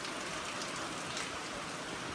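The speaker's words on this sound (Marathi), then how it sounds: "जाम पाऊस पडतो मित्रांनो जाम पाऊस पडतोय" Heavy rain pours down in Mahabaleshwar, a dense, even hiss of drops on surfaces that holds steady throughout at a moderate distance, with no voices.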